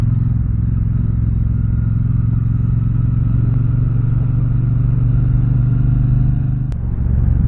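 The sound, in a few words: 2024 Triumph Bonneville Speedmaster motorcycle engine while riding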